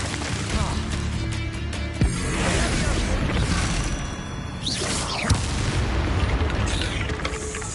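The Bombarda explosion spell in Hogwarts Legacy goes off as a series of booming blasts and whooshing bursts layered over constant game battle noise, with no voices heard.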